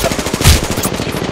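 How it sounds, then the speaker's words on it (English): Rapid automatic gunfire in the video game Apex Legends, a loud, dense burst of close shots firing in quick succession without a break. "I'm getting shot at"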